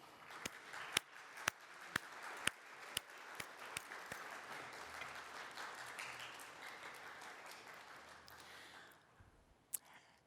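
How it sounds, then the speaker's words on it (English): An audience applauds the winners and finalists on stage at the RMIT Three Minute Thesis final, with a steady wash of clapping and a few sharp, close individual claps standing out, fading near the end. "A big round of applause for our winners."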